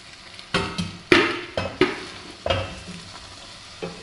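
Liquid fish stock hits a hot pan of scampi, giving a run of sharp sizzling bursts with stirring scrapes in between, each flare quickly fading.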